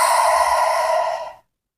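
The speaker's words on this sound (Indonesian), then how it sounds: "jenis suara yang bersumber pada paru-paru yang bentuknya adalah nafas" A single long breath is exhaled from the lungs, a loud, close, airy sigh that holds steady and then tapers off, followed by silence.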